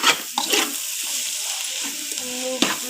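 Chicken masala being stirred and fried in a pan on a low flame, a steady soft sizzle with a few scraping stirs, close and alone.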